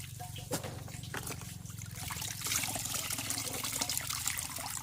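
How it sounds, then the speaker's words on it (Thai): Water running and splashing as fermented bamboo shoots are rinsed by hand, a steady close trickle and slosh with a few sharp knocks, no talking. "หลังจากเรา หมักได้สองคืนแล้วเราก็จะนำมาล้างนะคะเพื่อน ๆสักสองสามน้ำเนาะ"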